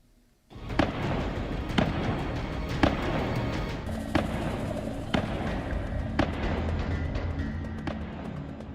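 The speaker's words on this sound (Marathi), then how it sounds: "स्फोटकांच्या मदतीनं ही घरं जमीनदोस्त करण्यात आली." Explosives bring down houses in Kashmir. A sudden loud blast is followed by a sustained roaring rumble, with sharp cracks and thuds at roughly one-second intervals.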